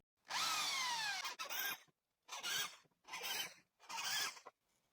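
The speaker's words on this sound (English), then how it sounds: "Here the drilling will be done with the same drill bit that was used." Drill bit boring into old wood in four separate, close, harsh bursts, each whining and rasping for about half a second to a second with short silences between.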